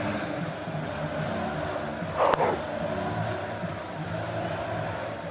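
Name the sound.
cricket stadium crowd cheering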